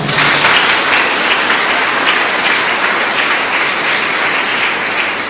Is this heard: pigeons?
no